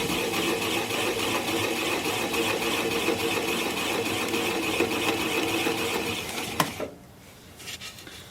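Alder bowl spinning slowly on a wood lathe, a steady mechanical hum and whir with gouge scraping, then a sharp knock as a piece breaks off and the motor cuts, leaving near quiet.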